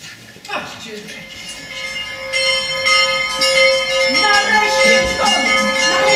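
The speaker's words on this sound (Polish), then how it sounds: "Nareszcie dzwon! Nareszcie dzwon!" A large bell tolls on stage during a theatre production of a play, ringing out with long sustained resonant tones that build and layer over several seconds amid faint stage voices.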